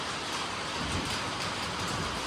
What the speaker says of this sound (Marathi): भाई अनएक्सपेक्टेड होता हा पाऊस.